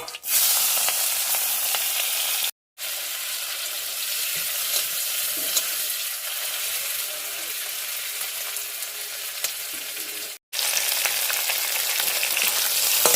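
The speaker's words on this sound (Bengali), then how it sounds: "এই যে পটল ভাজার তেলেতেই মাছটা ভেজে নিই" Prawns fry in oil left over from frying pointed gourd, a dense, continuous sizzle with crackle, broken by two short silent cuts.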